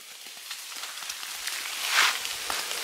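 Steady light rain patter and fine hiss at an outdoor spot where a TR100F mini motorcycle is being ridden, fairly faint and continuous with a brief louder swell near the end, no talk.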